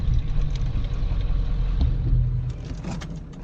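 A 7.3 Powerstroke diesel truck sliding sideways through snow, its engine a steady deep low rumble with broad road and wind roar from inside the cab, loud and continuous, easing slightly toward the end.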